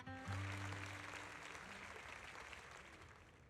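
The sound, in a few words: crowd applause after a speech in a video game cutscene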